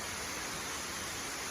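Steady, full broadband rush of the waterfall at Delphi Falls in New York, a continuous roar with no pauses, no talk and no other sounds.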